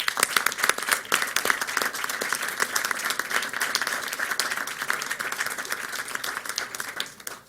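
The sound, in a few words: applause at a school board meeting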